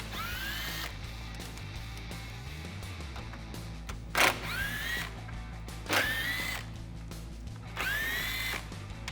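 A power tool spins out the four 10mm bolts holding the grille on a Ford F150, whirring in several close bursts that rise in pitch, with short pauses between them.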